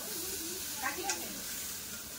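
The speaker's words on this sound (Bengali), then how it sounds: "ওটা সার কচু ভাজা।" Sar kochu, arum or taro, frying in a pan gives a steady, close sizzle and hiss throughout, with a voice speaking briefly over it.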